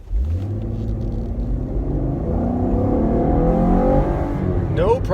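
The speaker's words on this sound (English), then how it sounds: "no problem making this car go." A 2017 Camaro RS with a V6 engine revs up while accelerating, a loud, close, rising engine drone that climbs steadily in pitch for several seconds as the car gathers speed, ending with a brief higher whine.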